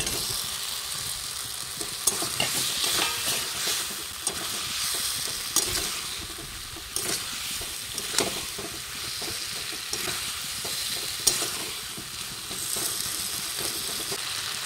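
Potatoes fry in a pan during village-style egg curry cooking on a rooftop, a continuous loud sizzle broken by repeated scraping stirs and occasional sharp clinks of the utensil.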